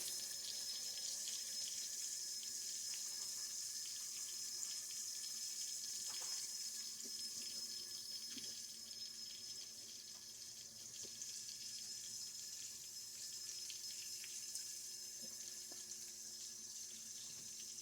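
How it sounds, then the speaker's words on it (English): Green beans are rinsed under a running kitchen tap, giving a steady, soft hiss of flowing water with faint splashes throughout. "I'm going to rinse my green beans."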